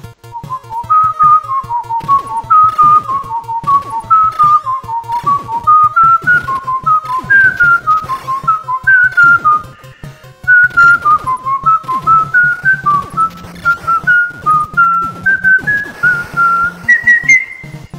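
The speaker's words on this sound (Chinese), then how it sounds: "我这小口哨吹的怎么样啊？" A person whistles a bright, bouncy tune at close range in short rising and falling phrases, over a steady rhythmic pulse of video game sound from a modded Contra run.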